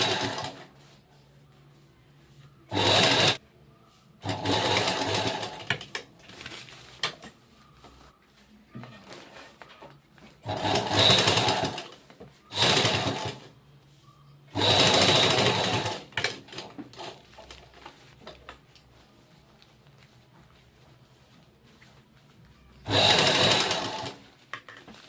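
A sewing machine stitches a bag in several bursts of rapid whirring, each lasting one to two seconds, separated by quiet pauses and heard close up.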